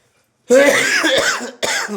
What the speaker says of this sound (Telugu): ఒకటే దగ్గు ఒకటే దగ్గు